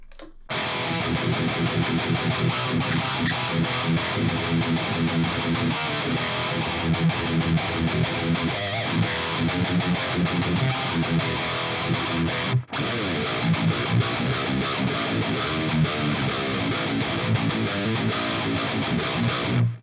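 Heavily distorted electric guitar chugs and rings through an amp, loud and continuous with a brief cut near the end.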